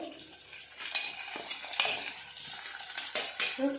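Carrot and potato frying in a pan for palak pulao while a spatula stirs them, giving repeated scraping and clinks over a soft, continuous sizzle, close and moderately loud with no talking.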